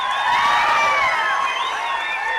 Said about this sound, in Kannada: ಚಪ್ಪಾಳೆ ಮೂಲಕ ಅವರಿಗೆ ಒಂದು ಕೊಡಬೇಕಾಗ್ತದೆ